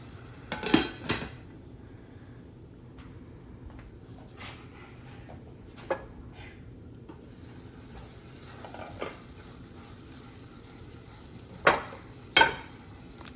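Red chili powder, coriander-cumin and turmeric being mixed in a pot with a spoon: sharp metallic clinks and scrapes at irregular intervals over a faint sizzle, no talk.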